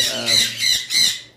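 Sun conures kept for sale give loud, harsh, shrill squawks, three or four close piercing bursts in quick succession, sounding near and dominating the space.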